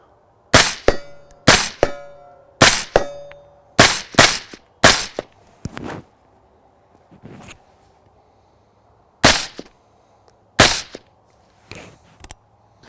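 Rifle shots through a large Hyperion suppressor with supersonic bullets, about a dozen sharp, loud cracks arriving singly and in quick pairs, each with a short ringing tail, separated by brief quiet gaps.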